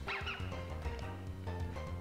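Dog-like yelping cries from a Pokemon creature in Pokemon Black, a few short high chirpy yelps over steady game music, with no talk.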